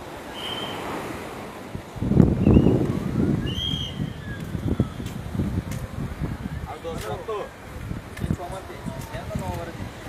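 Strong wind and sea waves at Digha beach during a red alert, a gusty roaring rush with surging swells that peak early and keep on under people talking.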